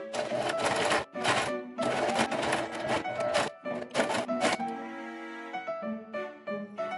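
A sewing machine stitching cosplay wings, running in several short bursts of rapid buzzing stitches with brief stops between, followed by quieter tonal whirring and a few clicks near the end.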